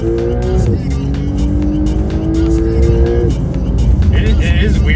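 A Porsche 911 Carrera S in sport response mode accelerates hard, its engine note climbing steadily and loud inside the cabin, with a shift partway through and people talking over it.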